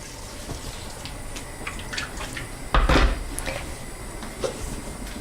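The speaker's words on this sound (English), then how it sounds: "So I'm going to put this on the hob and add my boiling water." Boiling water is poured into a pan on a kitchen hob for cabbage with apple and cinnamon, giving a short splashing burst amid faint clinks and light kitchen clatter.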